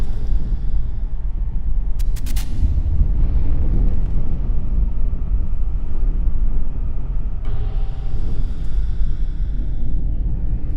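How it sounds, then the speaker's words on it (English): A car engine roars steadily, its rapid firing strokes blended into one continuous loud low drone that holds for the whole stretch, with no voices. "All the explosions are synchronized together to make that one constant engine roaring sound."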